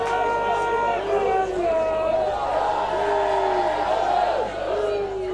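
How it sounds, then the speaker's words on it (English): A crowd cheers and whoops at an Ultimate frisbee semifinal between Belgium and Germany, a sustained roar with rising shouts and a commentator talking over it. "Crowd loving that one"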